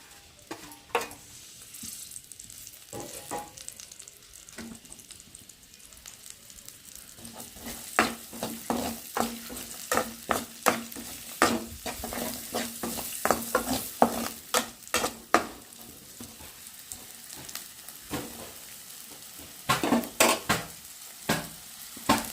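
Garlic, ginger, green chilies and onion pieces fry in hot oil, a soft sizzle broken by frequent sharp clinks and scrapes of a spoon stirring against the pan, close and fairly quiet.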